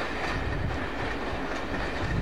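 British Rail locomotive 85029 pulls out of London Euston in 1986, leading the 1714 service with a steady, close rumble of wheels and rail joints that fills the whole stretch.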